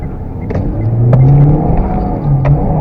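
A car drifts with the handbrake pulled in third gear, its engine rumbling and revving loudly and close while the rear slides, with brief sharp scrapes or knocks breaking through the steady roar.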